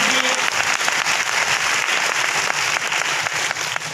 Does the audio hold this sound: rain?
no